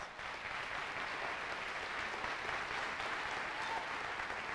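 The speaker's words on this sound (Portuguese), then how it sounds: "quer cumprimentar a você, meu querido irmão, minha amada irmã, com a forte e calorosa salva de palmas" Warm, steady applause from a church congregation during a Portuguese-language worship service, a dense wash of clapping hands that holds evenly throughout.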